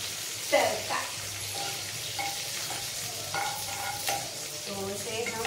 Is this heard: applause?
no